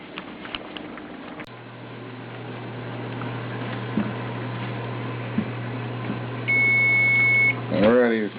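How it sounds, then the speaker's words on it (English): An electronic kitchen timer sounds a steady high beep for about a second near the end, over a low constant hum and background noise during home canning of leftovers and vegetables on the stove. "the timer is going off"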